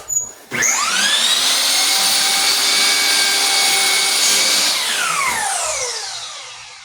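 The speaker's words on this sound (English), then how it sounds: "Set my miter saw at 8 degrees." A miter saw set at 8 degrees cuts a clamped pallet-wood board. The blade spins up with a sharp whine, roars steadily through the cut for about four seconds, then winds down to silence. No voices.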